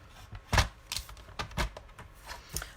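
Card paper being cut down to size, a handful of quick, crisp snips and rasps in an uneven rhythm, close and quiet.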